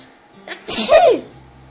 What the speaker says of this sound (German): Ich muss niesen.